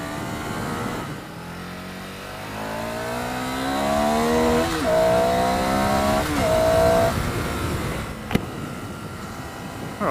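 A Ducati Scrambler Sixty2 399cc L-twin motorcycle accelerating on a test ride, its engine note rising steadily through the gears with a brief shift dip, under wind noise and a sharp click near the end.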